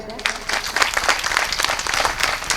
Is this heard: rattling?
no